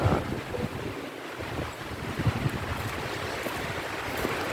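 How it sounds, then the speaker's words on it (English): Breezy wind rushes through early March woods with fallen trees, a steady broadband whoosh with gusts and light microphone buffeting, fairly faint and without talking. "and it's a bit breezy."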